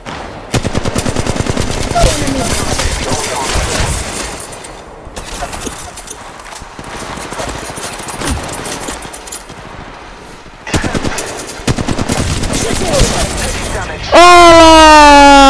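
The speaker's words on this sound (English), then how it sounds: "dari atas nembak guys" Rapid automatic gunfire in the battle royale shooter Apex Legends, dense crackling bursts with brief pauses across most of the stretch, mixed with game sound effects, ending in a rising synthesized tone.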